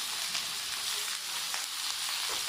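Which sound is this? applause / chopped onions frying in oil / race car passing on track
chopped onions frying in oil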